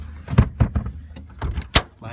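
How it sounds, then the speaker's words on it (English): A door latch clicks open on a Fiat Topolino, a couple of sharp metallic clunks standing out among other nearby handling noises, with a voice talking softly in the background. "Latches open the door."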